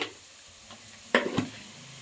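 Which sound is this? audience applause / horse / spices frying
spices frying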